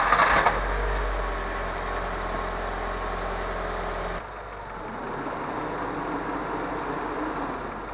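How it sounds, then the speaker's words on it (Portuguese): A car engine idles steadily while warming up to normal operating temperature before a compression test, a constant low hum close by that shifts slightly in tone midway, with no talking. "O primeiro passo é ligar o motor e deixá-lo aquecer até à temperatura normal de funcionamento."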